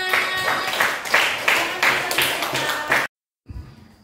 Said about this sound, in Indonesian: Ya benar, silakan tepuk tangan.